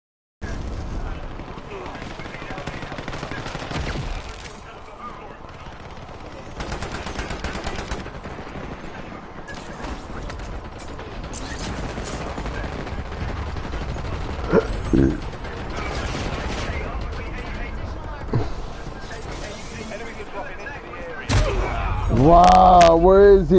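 Call of Duty Warzone gunfire on the Havens Hollow map: repeated bursts of shots and mechanical clatter scattered over the stretch, loud against steady game ambience, with a player talking at times.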